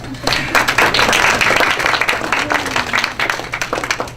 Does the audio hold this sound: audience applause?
yes